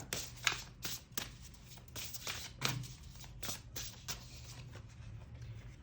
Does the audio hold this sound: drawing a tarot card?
yes